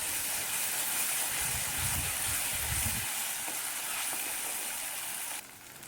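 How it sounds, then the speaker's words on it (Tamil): Curry leaves sautéing in a pan of egg gravy base give a steady, close sizzle and hiss. Brief low rumbles of stirring come in the first half, and the sizzle drops away near the end. "இதோடவே வந்து பார்த்திங்கன்னா கருவேப்பிலையும் சேர்த்துக்கலாம். அதையும் சேர்த்து நல்லா வதக்கி விட்டுக்கலாம்."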